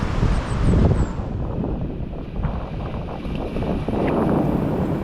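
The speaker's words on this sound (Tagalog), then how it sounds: "Ang sarap ng simoy ng hangin dito." Sea breeze on the coast of Siargao buffets the microphone in low rumbling gusts, swelling and easing, with faint open-water ambience underneath.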